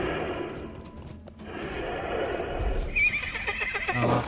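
A horse in The Lord of the Rings Online gives a loud whinny, followed by the clip-clop of its hooves and a closing thump, while a person speaks faintly underneath.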